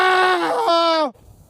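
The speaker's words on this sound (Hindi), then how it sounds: "अतुल अपनी आंखों के आगे ये सब देख के उसकी चीख निकल पड़ी।" A man screams in fear in a horror short film. The cry is long, loud and raw, with strained harmonics, and it trails off in a falling wail before cutting to near silence.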